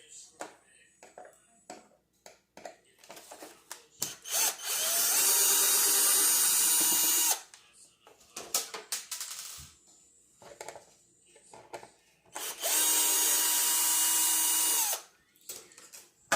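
Power drill driving screws into a Traxxas Hoss RC car body, two sustained whirring bursts of a few seconds each separated by quieter handling clicks and rattles, loud and close.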